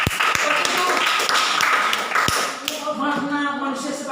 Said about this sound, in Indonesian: tepuk tangan untuk kelompok dulu.